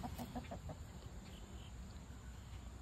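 A rooster gives a short series of clucks and a crow at some distance, faint against a steady outdoor background hum.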